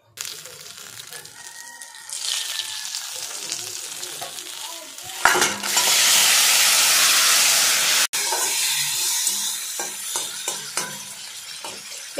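Oil frying in a wok starts as a quiet hiss, then erupts into a loud, steady, spitting sizzle when food hits the pan midway, with a few utensil clinks and scrapes as it is stirred.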